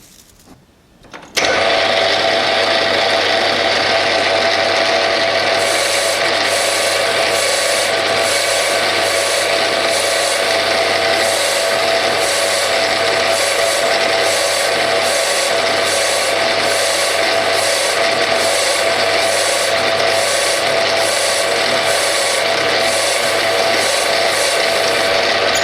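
A steady, loud machining whine with a grinding, chattering texture as a Bernardo P 600 G lathe drills grade 2 titanium, starting abruptly after a quiet second and running continuously, with faint pulsing in the high end.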